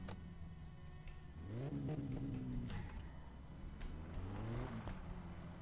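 Car engine in the video game My Summer Car, revving up and down in rising and falling sweeps over a steady idle hum, close and alone with no voices.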